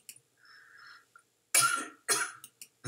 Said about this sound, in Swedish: Men händer att jag hostar.